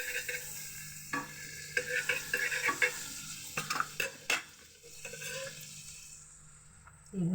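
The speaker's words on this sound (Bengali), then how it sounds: "এবার এর মধ্যে একটু বাটার দিয়ে দেবো।" Butter sizzles in a hot frying pan while burger ingredients are stirred and shifted, with soft utensil scrapes and clinks over a quiet, continuous frying hiss.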